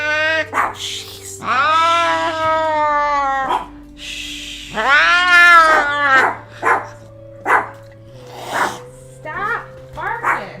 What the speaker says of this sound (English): He's allowed to meow. He lives here too.